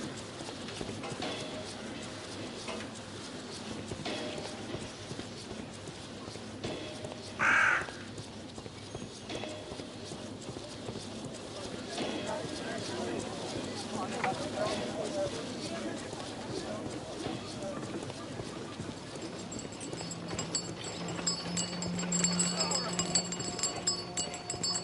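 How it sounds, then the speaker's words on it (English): Horse hooves clip-clopping steadily on a hard street in the Sherlock Holmes The Devil's Daughter video game, a continuous mid-distance patter under a busy ambient bed with a brief sharp bird call. "Horse of Pedro Alvarado."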